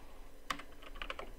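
Typing on a computer keyboard makes a short burst of quick, light key clicks, close and fairly quiet, with no talk over it.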